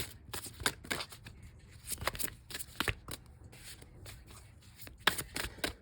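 Tarot cards are handled and shuffled close by: a busy run of crisp, papery flicks and riffles with short pauses, with no talking.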